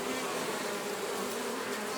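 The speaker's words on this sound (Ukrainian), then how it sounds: "Подивіться подивіться тільки скільки скільки бджоли біжить із пилком." A dense, steady hum of many honeybees buzzing close by at the hive, continuous and loud with no pauses.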